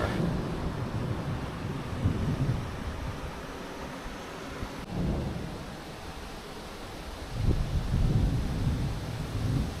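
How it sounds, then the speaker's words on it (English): Deep rumbling thunder from a thunderstorm rolls in waves over a steady windy hiss, heard from inside a camper van, swelling and fading twice without any sharp single crack. "Whoa, that was a loud thunder crack."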